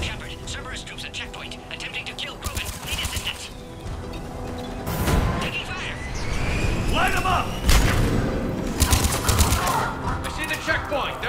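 Gunfire in the video game Mass Effect Legendary Edition: bursts of shots and heavy booming blasts, with loud impacts at intervals, all mixed with voices talking over the fight.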